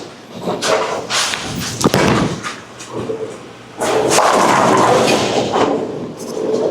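A Hammer Anger Solid bowling ball is thrown with heavy thuds and rolls down the lane in a sustained rumble, with alley noise around it.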